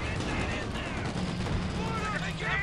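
Rapid gunfire bursts from a Company of Heroes 2 Ardennes Assault battle, infantry firing at a light vehicle, crackling continuously and densely throughout with a voice talking over the shooting.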